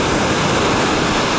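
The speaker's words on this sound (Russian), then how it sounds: "пришла большая волна, очень большая волна" Large ocean wave breaking on a beach, a loud, steady broadband roar of crashing surf filling the whole short stretch with no break.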